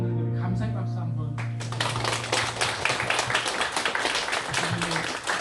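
Church congregation applauding in thanks for a pastor at an anniversary worship service: dense, sustained clapping that swells in after a sung or spoken opening and continues steadily to the end.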